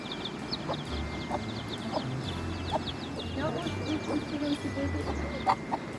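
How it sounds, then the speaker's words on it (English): A chicken clucks in short bursts on a narrow rural trail near Sapa, with birds chirping and a low rumble or voices in the background. "it is easy to get stuck behind a chicken, for example"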